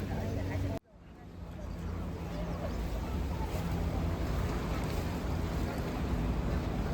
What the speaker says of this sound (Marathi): या बोटीतनं आता नायगराच्या जवळ जायचं आहे मेड ऑफ द मिसची टूर चालू झालेली आहे